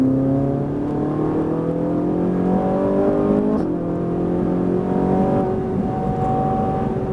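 A Ferrari 458 Italia accelerates hard on a track, its engine note climbing through rising revs, easing off briefly, then pulling again, loud and close from inside the car, with no speech.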